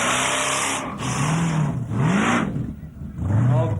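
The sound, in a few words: V8-engined Mazda car revving at Summernats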